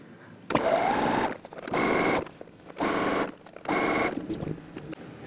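Sewing machine stitching pintucks into fabric, running in four steady bursts of about a second each with short pauses between, close and clear with no talking.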